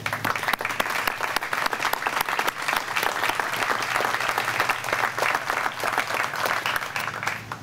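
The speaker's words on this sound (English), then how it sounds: "y'all please give them a round of applause for the time they put in to help us do this" Dense, sustained applause from a large crowd honoring volunteers at an Ironman 70.3 triathlon in Roanoke, Virginia, steady and loud throughout with no talk over it.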